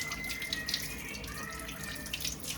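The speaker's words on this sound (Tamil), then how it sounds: "அடுத்து ஃபில்டர்ஸை வாஷ் பண்ணிடலாம்" Filters from an RO and UV water purifier are rinsed under a running tap, with water splashing and gurgling steadily into a sink at close range. No talk is heard.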